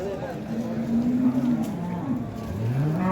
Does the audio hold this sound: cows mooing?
yes